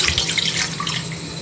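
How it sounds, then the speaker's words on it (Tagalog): Vinegar pours into a batch of papaya atchara as a steady, close liquid stream splashing for a second and a half, with no talking. "Ilagay natin agad ang vinegar natin."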